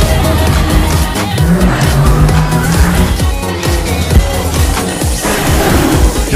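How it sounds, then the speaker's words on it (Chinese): A white taxi speeds through city streets near Marseille, its engine roaring loudly with a rising rev midway and constant road noise, close and dense from start to end. "真正的速度，甚至听得到发动机的轰鸣"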